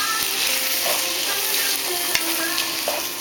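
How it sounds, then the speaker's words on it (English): Bell peppers sauté in a pan for paella, a steady close sizzle with scraping stir strokes and a few utensil knocks, no voices. "Just get it nice and saute it really nice."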